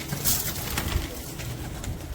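Pigeons cooing near a pigeon loft, a few soft low coos close by under faint background noise and brief rustles.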